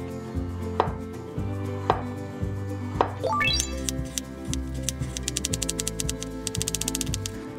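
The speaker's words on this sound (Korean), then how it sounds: "오이는 5cm 길이로 채 썰어 주도록 할게요" A knife chops steadily on a cutting board, slow single strokes at first, then speeding into rapid, even julienne cuts of cucumber into 5 cm strips.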